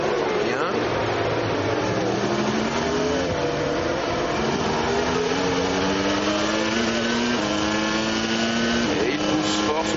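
Onboard at Monza, a Williams Renault Formula 1 engine screams at full power, its high whine climbing in pitch through repeated upshifts, loud and continuous, with faint commentary beneath.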